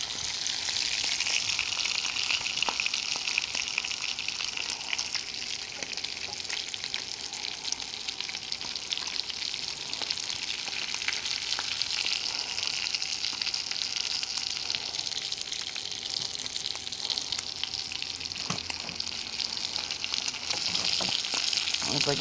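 Salisbury steaks frying in a skillet, giving a continuous bright sizzle and crackle of hot fat that holds steady throughout, close and fairly quiet, with occasional light pops and no talking.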